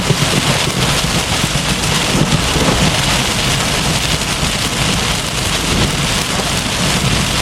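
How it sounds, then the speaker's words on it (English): Heavy rain pours down loudly and steadily during a Florida thunderstorm, a dense roar with thunder from a close lightning strike rumbling beneath it. "Very close strike. This one was about 300 meters from me, maybe even less."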